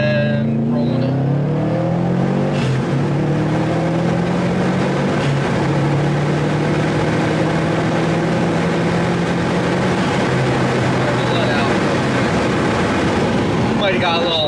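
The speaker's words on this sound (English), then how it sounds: "We'll go second to fifth gear pull real quick." A 2019 Subaru STI with Stage 2 tuning accelerates hard from inside the car through a second-to-fifth gear pull, its engine note climbing and dropping with each shift, loud and continuous for the whole stretch.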